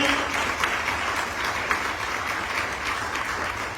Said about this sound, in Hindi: मैं चाहूंगा जैसे मैं अपने गुरुदेव का नाम लूं, एक शानदार ताली बजनी चाहिए